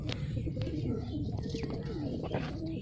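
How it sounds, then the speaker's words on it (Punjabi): A female pigeon coos softly in a household pigeon loft, the low repeated coos clear but fairly quiet against a steady background murmur. "ਆਹ ਕਬੂਤਰੀ ਆਈ ਸ਼ਾਖ"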